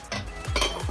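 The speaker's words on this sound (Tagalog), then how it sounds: "Halo-haloin na natin para ma-check natin kung medyo naglambot na ang sitaw at ang okra at ang radish." Stirring string beans, okra and radish in a cooking pot gives a few short scraping clinks of a utensil against the metal, close and fairly quiet, with no talking.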